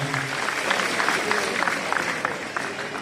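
Audience clapping steadily to welcome a community leader onto the stage at a memorial event, a dense wash of claps that holds at an even level throughout with faint crowd murmur underneath.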